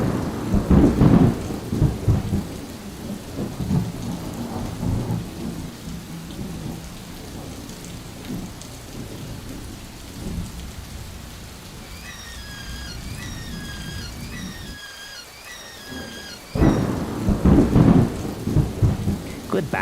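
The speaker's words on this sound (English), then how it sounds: "Can you hear it? A storm's coming." A thunderstorm in Death Stranding: steady heavy rain under repeated deep rolls of thunder, loudest at the start and near the end, with a brief lull in between and no talking.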